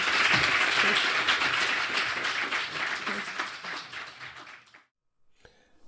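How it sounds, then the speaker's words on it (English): An audience at an agroforestry show applauding the speakers, a dense round of clapping that tapers off and stops after about five seconds. "if you could just give a round of applause to the speakers first"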